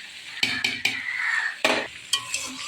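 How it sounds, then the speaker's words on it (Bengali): Flat beans and spring onions being stir-fried in a pan: a utensil scrapes and knocks against the pan in several sharp bursts over a soft continuous sizzle, close and clear. "শিম দিয়ে, পেঁয়াজ কলি দিয়ে ভাজা করছি"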